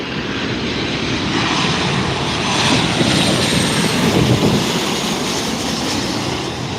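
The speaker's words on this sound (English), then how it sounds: "And arriving behind me is going to be 737 Delta aircraft." Delta Boeing 737 arriving at LAX, a broad continuous roar of jet engines and rushing air that swells slightly midway, heard outdoors at the airport with no talk.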